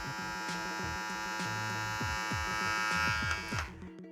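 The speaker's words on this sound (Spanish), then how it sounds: "Tengo en la M15 esta cuchilla azul y aún la he hecho un poquito más lenta de lo que ya es." A Wahl-style M15 hair clipper fitted with a blue blade and set to run a little slower, buzzing steadily and close with a dense electric hum that holds for about four seconds.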